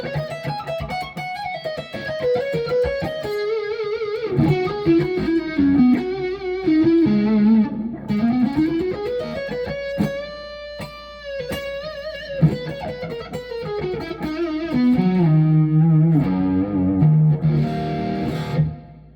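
Donner DMT100 electric guitar in Gradient Violet, played through its neck pickup with an effects unit adding mild drive and chorus; a continuous run of melodic single-note lines and chords, sustained and fairly loud, with no talking.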